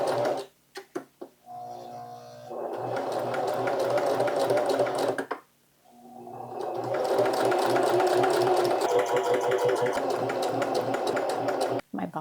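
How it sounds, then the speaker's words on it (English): A home sewing machine winds a bobbin in a steady, loud whir that runs for several seconds, pauses briefly, then starts again and continues, with a few light clicks at the start. "The bobbin winding is so cool."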